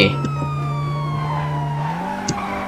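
A police car in the GTA V video game gives a steady engine drone whose higher tones slide slowly downward, with a few brief clicks and a short knock near the end.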